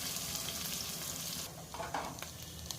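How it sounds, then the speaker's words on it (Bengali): Green chillies and onions frying in a pan for a Bengali fish dish, a constant close hiss of hot oil that eases slightly halfway through, with light stirring clicks near the end. "কাঁচামরিচ পেঁয়াজ ভেজে নিচ্ছি।"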